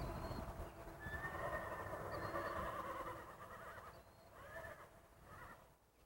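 A horse whinnies in a long, wavering call, followed by a couple of shorter neighs, with faint birdsong in the background.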